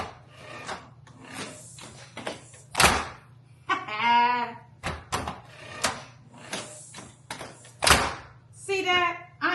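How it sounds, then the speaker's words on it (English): A repaired wooden door swings shut at close range with rubbing and knocking thuds, a few sharp impacts spread through the clip over a steady low hum, while a person talks between the sounds. "I'm gonna close this door"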